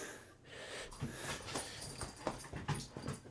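Dog chewing on a slipper indoors, close-up gnawing with snorts, wet breathy sniffs and small whimpering noises coming in irregular bursts, fairly quiet with no talk.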